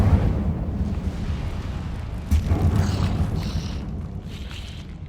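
In Hogwarts Legacy, casting the Incendio fire spell brings a heavy, rumbling whoosh of flame with a sharper flare near the middle, then a steady low roar that fades slightly. There is no talking.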